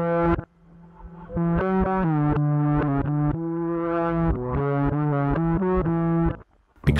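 A fretless bass plays through a Behringer TO800 vintage tube overdrive, delivering a continuous, gently distorted melodic line with sliding notes and mid-range growl, loud and up close, ending with a short pause and a final attack.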